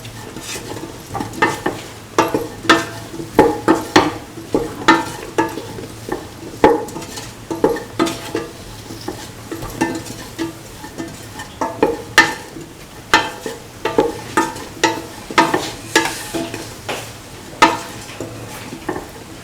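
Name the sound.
stirring garam masala into frying mung bean ivy gourd rice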